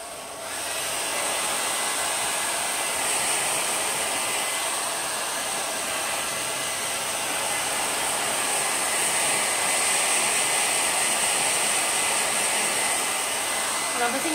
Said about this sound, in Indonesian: Ini juga pakai hair dryer Xiaomi.